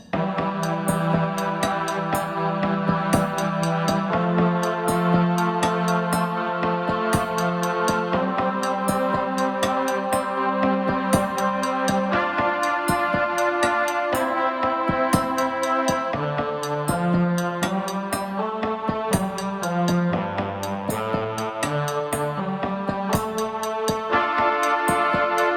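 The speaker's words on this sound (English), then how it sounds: "So it's real objects and real things from around the house, but it does sound like percussion." Percussion pattern built from sampled real household objects, clicking and tapping in a steady repeating rhythm over sustained layered ambient synth and choir-like pads, heard alone without talk.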